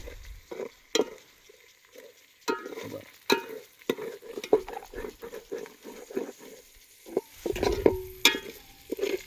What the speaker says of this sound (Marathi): कांद्याच्या पळीनं तर मस्त कांदा परतून घेत आहोत तर तेलामध्ये